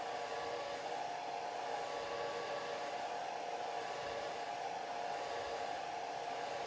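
A hair dryer blows steadily over a watercolor landscape painted in cerulean blue and alizarin crimson, a constant whooshing drone held at one level for several seconds with no talk.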